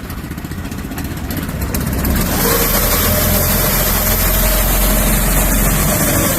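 Loud, close Honda engine on a 2006 Friesen 90BST boom lift cranking and catching, then running with a steady, rough mechanical drone.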